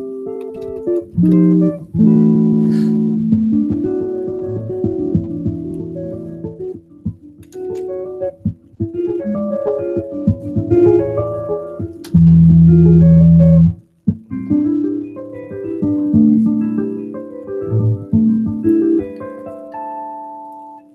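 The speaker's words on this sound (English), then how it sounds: "natural and artificial harmonics at the end" Solo jazz guitar playing chords and melody, ending in a run of bell-like chiming natural and artificial harmonics that ring out clearly and fade.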